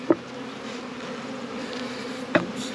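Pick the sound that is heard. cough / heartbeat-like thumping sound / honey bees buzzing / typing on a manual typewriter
honey bees buzzing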